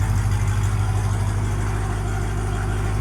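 A Demon-swapped Jeep Gladiator with headers and a Valvetronic Designs exhaust idles with its valves open, giving a steady, deep, throbbing rumble heard up close and alone, without voices.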